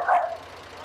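A pitbull gives a single sharp bark at a tractor, close and loud, then fades into a low background rumble.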